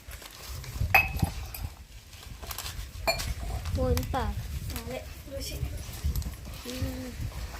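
Spoon mixing batter with cumin in a bowl in a tiffin-hotel kitchen, intermittent clinks and scrapes of metal on the bowl under frequent nearby talk.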